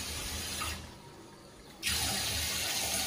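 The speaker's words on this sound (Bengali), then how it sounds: "এই দেখো এরকমভাবে পড়বে জলটা" Water gushes steadily from a tap through a flexible extension hose, dips to a softer flow for about a second, then surges back to a full, close splashing stream.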